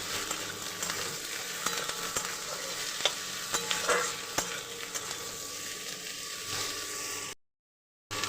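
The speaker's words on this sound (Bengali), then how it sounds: "আলুগুলোকে দিয়ে নেব দিয়ে আবারও একবার ভালো করে নাড়াচাড়া করে নেব" Potatoes and onions being stirred in a frying pan, with steady sizzling and repeated scraping strokes of the spoon against the pan, ending in a brief silence.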